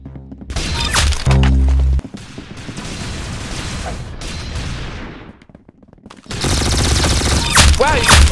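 Rapid bursts of video game gunfire crack loudly alongside dense, layered game sound effects, with a sharp heavy volley near the start and another busy stretch toward the end.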